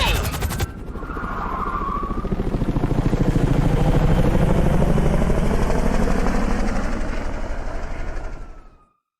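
Helicopter lifting off in the video game GTA Online, a loud steady rotor and engine roar that rises in quickly and holds through the clip before cutting off at the end.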